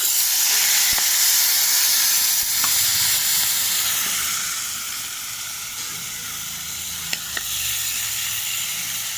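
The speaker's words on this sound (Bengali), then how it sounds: "8 ঘন্টা যে মাংসটা আমি দই দিয়ে মেখে রেখেছি, তো আমি এখন এবার তেলে ছাড়বো এক এক করে।" Yogurt-marinated meat, after eight hours in the marinade, sizzles steadily as pieces go one by one into hot oil already seasoned with bay leaves and whole spices, a continuous close frying hiss with a few small clinks.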